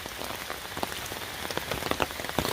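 Torrential rain pouring on a forest trail at Umstead State Park in Raleigh, North Carolina, a dense steady patter of drops hitting leaves and ground close around, with no voices.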